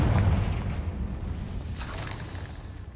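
A Confringo fire spell explodes in Hogwarts Legacy, a deep rumbling boom that starts loud and fades into a long dull roar, followed by a softer burst of crackle.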